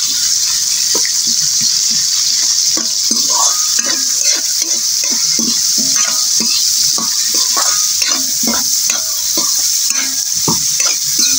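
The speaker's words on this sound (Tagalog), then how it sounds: "Tapos sili na ay yung kamatis. Halo lang ng halo." Chili and tomato stirred in a sizzling pan for chicken intestine adobo, a loud continuous frying hiss with repeated spatula scrapes and clatters throughout, no talking.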